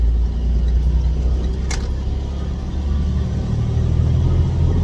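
Car engine running steadily from inside the cockpit while driving and making wide turns, a loud continuous low rumble with a brief jingle like keys partway through.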